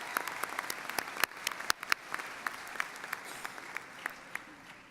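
A commencement audience claps for the platform party, a steady patter of applause punctuated by sharp individual claps from nearby hands throughout.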